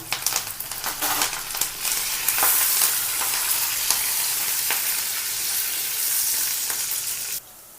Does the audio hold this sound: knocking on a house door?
no